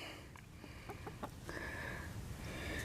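Chickens in a pen with grain scattered on the ground give a few soft, scattered clucks and faint calls close by, with rustling and low background noise throughout.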